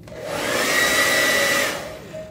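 A hair dryer blows with a steady, loud whirring hiss and a faint whine, switching on, running for about two seconds and then cutting off, with no talk.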